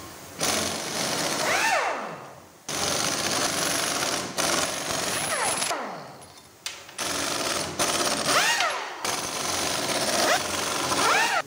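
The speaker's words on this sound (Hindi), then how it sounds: "सारा क्राउन का बोल्ट को खोल लेंगे।" Pneumatic impact wrench loosening the crown wheel bolts on an Ashok Leyland bus differential, loud rattling bursts in repeated runs separated by brief pauses, close by.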